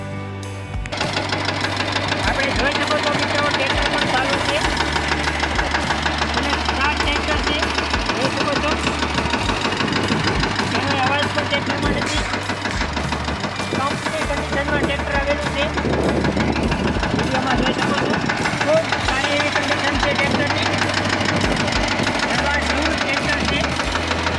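A second-hand Swaraj 717 tractor engine idles steadily with a rough, knocking diesel chug that holds loud and unbroken throughout, while someone talks over it.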